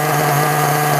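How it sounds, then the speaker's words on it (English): Close and steady, a pull-start nitro engine in a ready-to-run RC car idles with a continuous buzzing drone throughout this brief moment. "Idle down a little bit."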